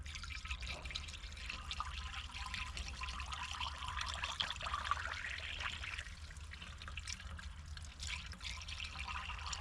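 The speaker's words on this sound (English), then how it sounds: "Pouring the water now." Water poured from a container into the radiator of an old abandoned car, a faint continuous trickle and splash over a low background hum, steady throughout with no talk.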